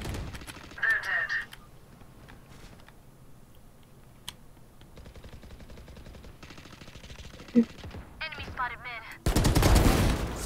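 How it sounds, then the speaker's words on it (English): Gunfire in Valorant on the Haven map, a sharp shot or two with keyboard clicks and a dense burst of rapid fire at the end, with a player talking and shouting throughout. "There goes another fucking minigun!"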